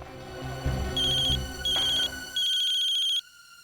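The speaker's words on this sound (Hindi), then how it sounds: "किसका फोन है?" A phone ringtone chirps in repeated bursts, growing longer, over a muffled low rumble that fades out before the ringing stops.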